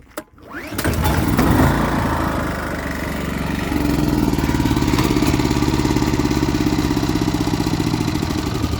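A choked small engine cranks with a short pull, catches and settles into a steady, loud, close running drone, with no speech.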